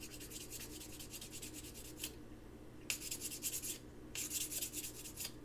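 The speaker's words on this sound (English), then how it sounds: "I'm going to do a little bit of sanding by hand, just to refine it" Hand sanding of a small metal box clasp makes quiet, rhythmic rasping strokes in quick bursts, with short pauses between sets, close and alone.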